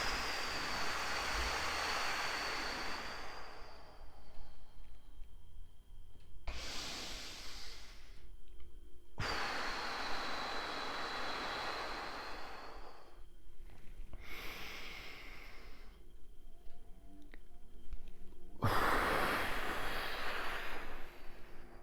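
Three deep breaths taken slowly during a relaxation exercise, each a long, broad airy inhale or exhale lasting several seconds, close and fairly loud, separated by brief quieter pauses with no talking.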